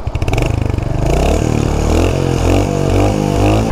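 Royal Enfield Hunter 350 motorcycle engine running steadily up close, with a loud pulsing note and a faint metallic jingling rattle riding on top.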